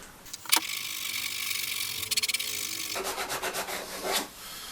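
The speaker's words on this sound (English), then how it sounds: "I'm going to have to use some quite high grit sandpaper, 80 grit, the new sheet I think, and just try and smooth all those shapes in" Wood is worked by hand with 80 grit sandpaper while shaping a large apple box, giving close, loud rasping strokes, first long continuous passes, then a run of short, quick rhythmic rubs.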